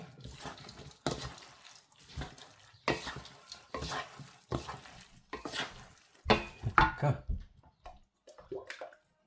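Sauce with spring onion and fried garlic stirred in a pan for palabok, heard as wet, sloshing scrapes in uneven bursts with a light sizzle, close by and with no talk.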